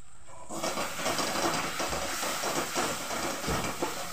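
Ground cumin, coriander and salt sauté in a hot pan for ghugni, a Bengali pea curry. A soft, steady hiss rises after half a second and carries on evenly at close range.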